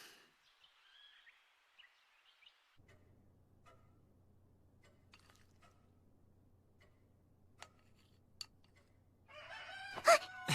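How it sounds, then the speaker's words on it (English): A rooster in a rural village crows loudly and close near the end, its drawn-out call rising over a quiet background of low hum and scattered small ticks. "That's a rooster."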